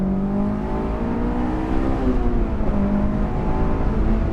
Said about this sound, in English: Still feels fantastic to rev out, of course.